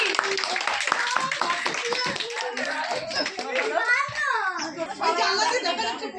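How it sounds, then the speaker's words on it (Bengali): A group of people clap hands together at a lively Bengali TV game show, steady applause filling the whole stretch, with children's and adults' voices talking and calling out over it. "হাততালি হাততালি সবাই মিলে হাততালি।"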